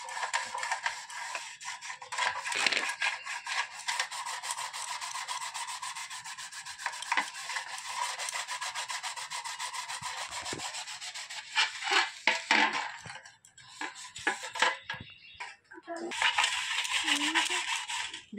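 A brass utensil is scrubbed by hand with homemade pitambari cleaning powder, giving a steady, close gritty rasp of repeated strokes that pauses briefly toward the end.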